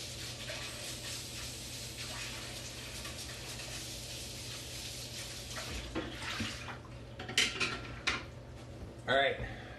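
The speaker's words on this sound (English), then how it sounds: "we're gonna wash our hands first." Hands washed under a running kitchen tap before baking a farm cake, a steady close rush of water with a few clinks and splashes toward the end, with faint talk underneath.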